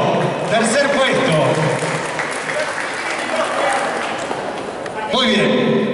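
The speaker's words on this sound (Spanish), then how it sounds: "Fuertes aplausos." A crowd at a cosplay runway contest at Anicomics claps for the third-place winner, steady applause throughout with voices heard over it.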